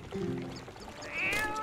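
A cat in The Legend of Zelda: Twilight Princess gives one short, clear meow, heard close and alone.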